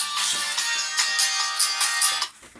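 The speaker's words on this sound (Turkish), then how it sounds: "Telefonu çaldı." A mobile phone rings nearby with a bright, repeating electronic melody in quick pulses, then cuts off just before the end.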